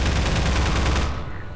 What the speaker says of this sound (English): A little bit close range there with my gunfire there